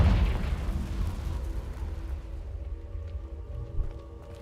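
A Confringo spell explosion in the game Hogwarts Legacy booms low and heavy at the start, then rumbles and fades over a few seconds.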